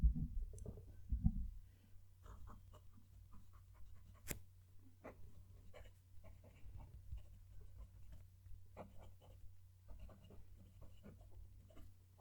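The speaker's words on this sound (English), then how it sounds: "you can hear the pen write." Soft scratching of a Kaigelu 222 fountain pen moving across paper, close and quiet, with light irregular strokes and ticks over a low steady hum.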